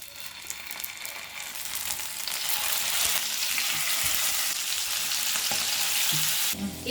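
Butai sardines frying in hot oil for a Mangalore-style fish fry, giving a steady, dense sizzle that swells slightly and holds loud throughout, with no voices.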